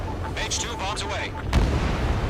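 Bombs explode in Ace Combat 7 as a deep rumbling boom lands near the end, under game radio chatter and beeping lock-on tones.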